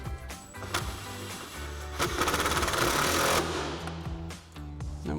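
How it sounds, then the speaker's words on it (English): A close, loud impact wrench fitted with a 10mm socket and extension hammers on bolts in a continuous rattling burst lasting a few seconds, ending with a brief spin-down. "tighten these down using our 10mm socket and extension on our impact"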